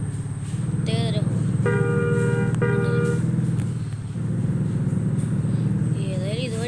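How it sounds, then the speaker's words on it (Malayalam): A distinctive horn on a bus in a bus simulator video game sounds in two tonal blasts near the middle, over a steady engine drone, while someone talks. "ഇതിനൊരു ഹോൺ ഉണ്ട് ഗൈസ്"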